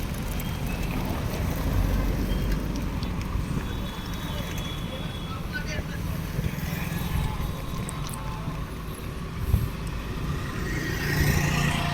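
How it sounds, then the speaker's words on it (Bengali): Traffic on the busy Mahatma Gandhi Road, also known as Budge Budge Trunk Road, recorded while riding a bicycle: a dense, steady rumble of passing vehicles and wind buffeting, continuous throughout with occasional slightly louder passes. "আমি যে রাস্তা দিয়ে যাচ্ছি সেটা হলো মহাত্মা গান্ধী রোড বা বজবজ ট্যাং রোড নামে পরিচিত খুবই একটি গুরুত্বপূর্ণ এবং ব্যস্ততম রাস্তা এইটা"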